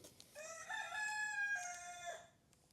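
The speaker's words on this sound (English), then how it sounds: "Mr. Rooster again." A rooster crows once outdoors on a cool-climate homestead garden, a single drawn-out cock-a-doodle-doo, fairly distant and faint against quiet background.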